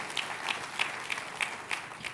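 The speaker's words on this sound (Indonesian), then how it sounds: "Tepuk tangannya boleh yang paling meriah buat Tuhan dia." Audience applause during a church service, a steady patter of many hands with regular clapping accents, moderately faint and without speech.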